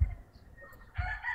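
A White Kelso gamefowl rooster crows once, faint and brief, its call rising near the end of a short quiet stretch.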